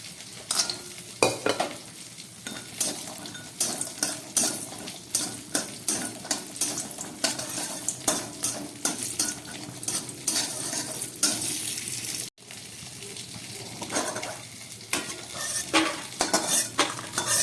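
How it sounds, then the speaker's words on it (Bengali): Bori lentil dumplings fry in white oil in a wok, a continuous sizzle under a rhythmic series of close spatula scrapes and clinks against the metal, briefly interrupted once. "সামান্য একটু কড়ার মধ্যে তেল দিয়ে দিলাম, শুধু সাদা তেল দিলাম এই কারণে, একটু বড়ি ভাজবো।"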